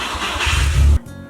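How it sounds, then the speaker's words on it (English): A car engine cranks and catches right after fresh oil has been added, a loud low rumble that runs close up for about a second and then drops away sharply. "you want to start the car."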